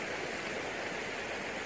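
Muncie Creek rushes past rocks at the foot of a carved cliff, a steady, dense wash of flowing water that fills the scene without a break.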